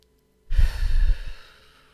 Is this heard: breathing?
yes